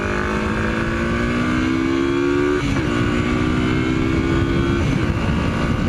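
A 1981 Yamaha XS 400 motorcycle engine with an older aftermarket 2-in-1 exhaust idles steadily and close by, its even throb holding throughout with a brief dip partway through.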